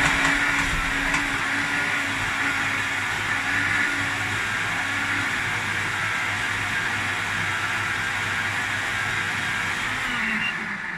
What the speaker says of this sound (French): comme c'est pas un gros blender avec le système au milieu de poussoir, de le secouer en fait, de le mélanger, de l'arrêter,